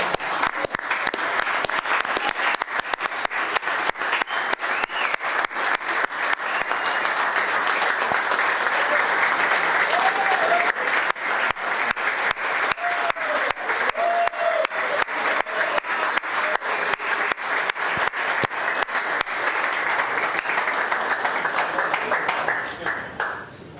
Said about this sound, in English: you want to applaud one more time?